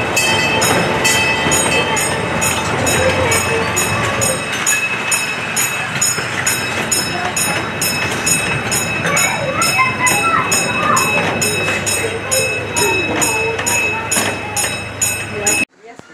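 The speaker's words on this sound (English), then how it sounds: "I hear the railroad crossing going off. So that means the train is coming back." A train at the Fort Wayne Children's Zoo in Indiana rolls by loudly and close, with a continuous rumble, clacking wheels and a repeating bell-like crossing signal, before the sound cuts off abruptly.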